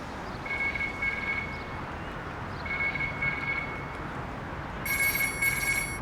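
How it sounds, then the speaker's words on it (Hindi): A telephone rings for an incoming call, its electronic ring sounding in three short trilling bursts over a constant background hum, alone without talk. "अम्मी का फोन आ रहा है"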